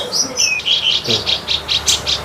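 A kapas tembak songbird sings a rapid series of bright, high chirps in a steady pulsing rhythm, close and clear with no talking.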